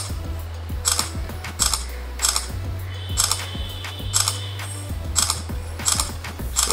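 A Samsung Galaxy Mega 6.3 phone fires its camera shutter in continuous mode, producing about nine evenly spaced mechanical click bursts in quick succession, close and clear.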